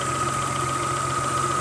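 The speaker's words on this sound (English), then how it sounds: "now it has a request for air conditioning and there's the compressor" A 1992 Geo Metro XFI engine idling with a newly installed AC compressor engaged, a steady mid-pitched hum with a constant tonal whine running throughout, close and fairly loud, with no talk.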